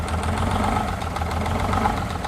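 A roughly thirty-year-old 10-wheel logging truck idles just after its first start in years, its engine a close, steady, knocking diesel rumble with a rough pulsing rhythm and no voices.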